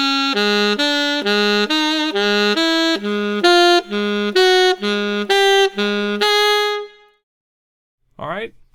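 A saxophone plays a mechanical scale exercise in F as a rapid, even run of about a dozen short, bright, detached notes, then a held note, silence, and a brief bend.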